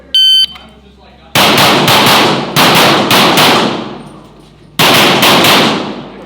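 Pistol shots crack out at a competitive shooting training session, a loud rapid string of five shots with a pause before the final one, preceded by a short electronic timer beep.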